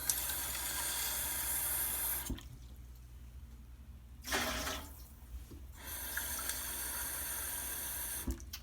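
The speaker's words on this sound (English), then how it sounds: "And then I'm going to add 2 more cups of hot water." Hot water runs from a kitchen tap in bursts, a bright hissing gush that stops twice for a few seconds of quiet before resuming, with no talk.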